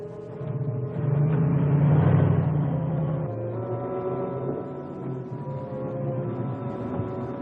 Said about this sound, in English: Listen, there is a car coming.